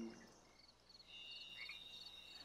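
A western toad croaks faintly in a moist Olympic Mountains setting, a low soft call set against a quiet background of insect-like high hums, with no voices.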